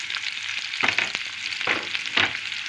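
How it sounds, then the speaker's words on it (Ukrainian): Onions sizzle and crackle in three tablespoons of hot oil in a preheated pan, a steady close frying hiss with a few scraping stirs. "Розігріту сковорідку я ляла 3 столові ложечки олії і висипаю цибульку на стріжену."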